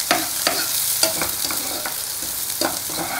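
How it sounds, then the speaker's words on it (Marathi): Onion frying in a pan on a small stove over full gas, a steady sizzle broken by sharp scraping stirs at irregular intervals, close and fairly loud with no talking. "कांदा होऊ द्यायचा, थोडा खमंग होऊ द्यायचा।"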